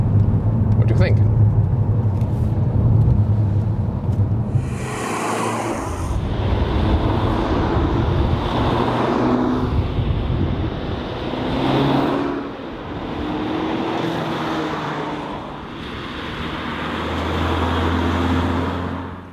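A Peugeot 308 GTi 270 hp hot hatch engine downshifts in sport mode, with loud rising and falling revs and blips close by over continuous road noise.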